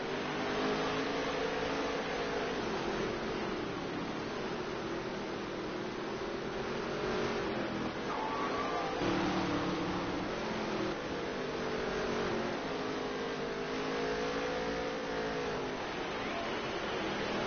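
Race cars in a stock-car racing game, engines droning steadily with rising and falling pitch as they accelerate and pass, heard continuously under a commentator's voice.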